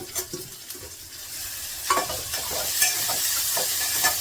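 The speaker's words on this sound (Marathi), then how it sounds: "आता टमाटा चांगला तेलामध्ये छान परतलाय" Tomatoes sizzle in hot oil in a pan while a spatula scrapes and stirs them in short, irregular strokes, close by and moderately loud.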